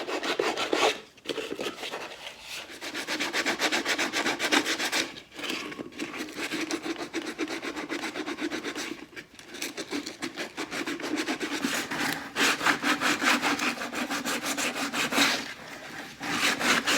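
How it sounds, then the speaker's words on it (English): Hand sanding of a wooden cone for a dust collector cyclone, a steady rasping scrub in long strokes with brief pauses between them, close and loud with no talking. "all sanded"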